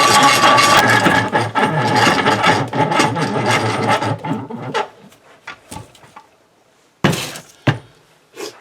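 A dry, ungreased vice screw thread turns with a loud grinding, scraping rasp for several seconds, then breaks into a few sharp creaks and knocks separated by near silence.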